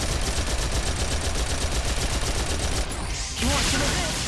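Dense, continuous barrage of explosions and blasts in the Phantasy Star Online 2 game, loud and sustained for several seconds with a brief dip before bursting again.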